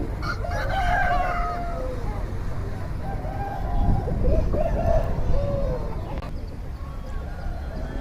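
A country rooster crows twice at a busy native-chicken market in Nallapadu, with one loud crow at the start and a longer one midway, over constant crowd murmur and nearby talking.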